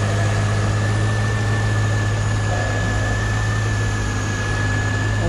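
A 2000 Chevrolet Corvette with under 40,000 miles sits idling in steady, close, continuous engine rumble with a low throbbing drone and no pauses or talk.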